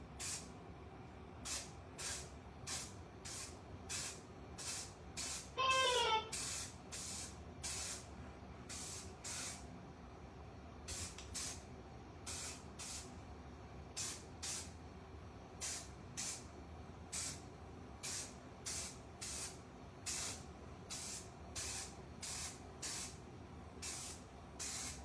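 Rubberized black undercoating is sprayed onto a floor patch of a 2017 Toyota hybrid in long series of short hissing aerosol bursts, close and steady in rhythm, with no talking.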